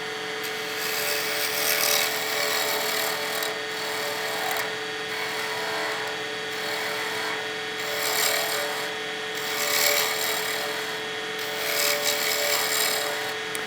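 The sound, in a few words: wood pen blank turned on lathe with spindle roughing gouge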